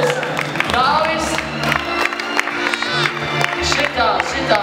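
Crowd applause and scattered cheers for an old grandpa performing street workout moves, a steady wash of clapping with voices talking and calling out over it throughout.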